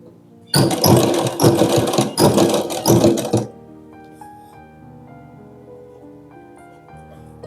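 A sewing machine stitches a princess cut blouse in a loud, fast, close mechanical whir for about three seconds, briefly pausing once, then stopping while faint tonal background sound continues.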